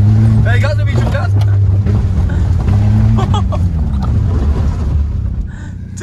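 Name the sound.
vehicle engine revving at full throttle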